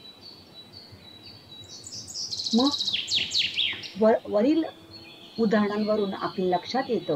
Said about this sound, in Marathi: पहाटेच्या वेळेला आपल्याला या पक्ष्यांचा किलबिलाट ऐकू येतो।